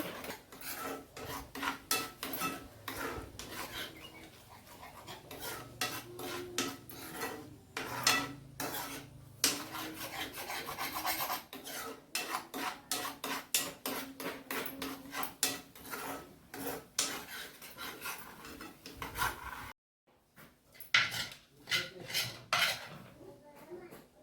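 Beetroot jam with sugar is stirred in a pan, a close, rhythmic series of scraping and rubbing strokes of a spoon against the metal, steady for most of the stretch, with a brief pause before the stirring resumes.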